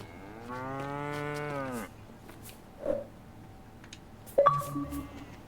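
A cow moos in Lego Fortnite, one long drawn-out bellow followed by a few brief grunts and clicky in-game effects, up close and clear with no talking over it.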